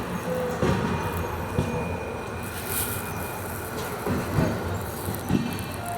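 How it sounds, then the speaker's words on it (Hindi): The Solapur Vande Bharat Express rushing past near Kem, a broad sustained roar with rhythmic thumps of wheels over rail joints and a faint high whine, heard steadily from close by. "अभी देखिए सोलापुर वंदे भारत एक्सप्रेस"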